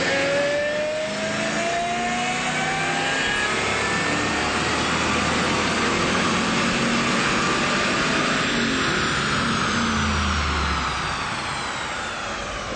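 A stock 2003/04 Mustang Cobra engine on a chassis dyno makes a loud, sustained full-throttle pull. Its pitch climbs steadily through the revs before it eases off at the end, with no talking.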